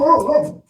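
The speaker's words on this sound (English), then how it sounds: "Okay, that's my dog." A dog whimpers and yips in a short, close burst of whining cries that fade out after about half a second.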